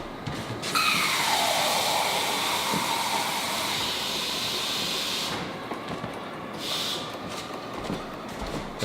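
Liquid pouring steadily into a pot of brown rice, a continuous splashing hiss for about five seconds that then tapers to quieter trickles.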